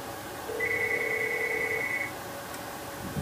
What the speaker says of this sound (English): You can hear the phone rings and my modem picks up.